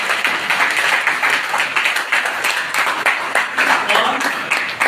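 Audience applause at a lecture on Shaiva dharma and philosophy, a steady dense wash of many hands clapping that holds at an even level for the whole span, with no voices over it.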